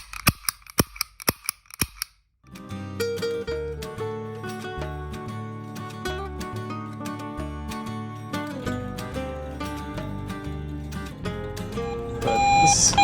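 A Hubley Dick Tracy toy cap gun snaps off a quick run of about seven sharp, bright cracks in an even rhythm, close and loud, before music takes over.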